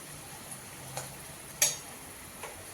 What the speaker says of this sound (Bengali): আদা রসুনের পেস্ট দিয়ে আর একটু কিছুক্ষণ নাড়াবো, জাস্ট রসুনের যে কাঁচা গন্ধটা আছে সেটা যেন চলে যায়